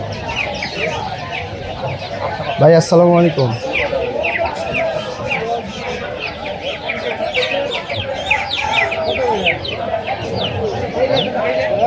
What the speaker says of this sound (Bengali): এই হলো মুরগির বাচ্চা। দেখি এখানে কি কি মুরগির বাচ্চা।